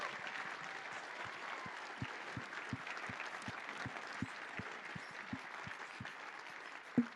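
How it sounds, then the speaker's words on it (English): Sustained applause from a conference audience in a hall, steady and fairly faint throughout, honoring the event staff at a security convention, with scattered individual claps standing out. "just give a general applause for the staff"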